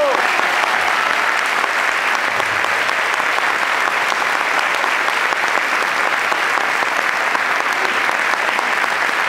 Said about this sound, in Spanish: Nuevamente nuestro aplauso para ellos.